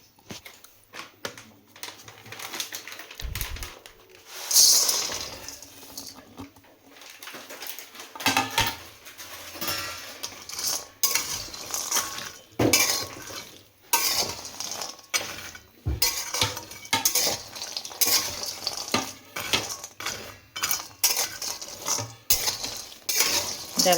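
Oats with honey being stirred in a pan, with a spoon scraping and clinking against the metal in an uneven, busy rhythm, close and fairly loud, going on throughout with no talk.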